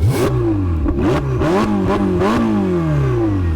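Ferrari 488 GTB with a twin-turbo 3.9-liter engine revving hard, several loud close blips that climb and fall in quick succession with no talk over them.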